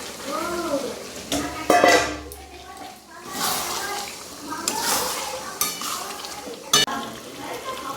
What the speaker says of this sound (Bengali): এবার মাংসতে দিয়ে একটু কিছুক্ষণ কষতে হবে।